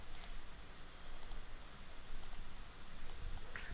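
A computer mouse clicks in 3D modeling software: crisp, close clicks come in small pairs at about one-second intervals over a quiet room hiss.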